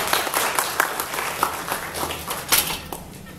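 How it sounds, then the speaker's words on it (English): Audience applause at an AI meetup in Karachi, a steady crowd of many hands clapping at moderate volume, continuous for several seconds with no talking. "Please have a round of applause."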